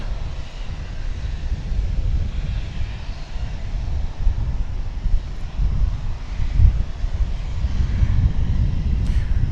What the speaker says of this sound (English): American Flight 795 is just about to arrive from Lubbock, Texas. It's an Airbus A319.